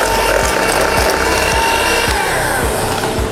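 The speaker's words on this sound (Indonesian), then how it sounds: "Lalu kita kocok kembali menggunakan hand mixer." A hand mixer beating cream cheese and icing sugar, a loud, steady motor whir with a rhythmic rattling clatter of the beaters against the bowl, close and continuous.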